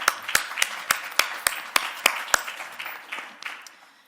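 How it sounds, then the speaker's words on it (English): Sparse applause at a forensic science symposium: a few sharp, evenly spaced claps dominate, joined by softer scattered clapping that thins out and fades toward the end. "let's give a round of applause"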